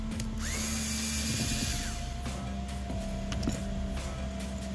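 Panasonic cordless power drill driving screws in steady bursts with whining motor tones while taking apart the valve and rear block of an FX Impact air rifle, close and loud with no talking.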